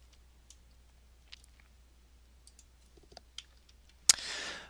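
A handful of faint, sparse computer mouse clicks spaced irregularly while values are being selected, ending with one sharp louder click followed by a short hiss.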